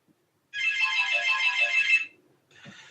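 A mobile phone ringtone sounds once, a bright electronic chirping tone lasting about a second and a half, then cuts off and briefly starts again, clear and alone in an otherwise quiet room.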